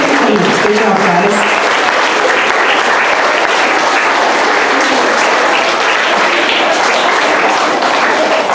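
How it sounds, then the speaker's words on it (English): At an awards gathering, an audience gives the first row of recipients loud, continuous applause, a dense wash of clapping that runs for over eight seconds, with a voice speaking over the start. "Big round of applause for the first row."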